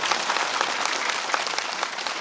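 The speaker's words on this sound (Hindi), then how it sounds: "बहुत जोर से ताली बजाओ।" Dense, loud audience applause fills a hall at a Brahma Kumaris silver jubilee gathering in Goalpara, many hands clapping steadily and evenly for the whole moment with no voices.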